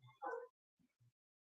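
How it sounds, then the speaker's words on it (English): A dog somewhere in a home in Spain gives a quick whimpering yip followed by two faint, soft huffs, brief and fairly close, with nothing else around it. "maybe you hear one of my dogs barking behind me here"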